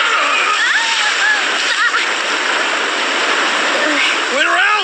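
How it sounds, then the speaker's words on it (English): Water gushes and splashes loudly from a burst water line at a construction zone, a roaring continuous spray close by, with excited voices shouting over it. "The water line burst!"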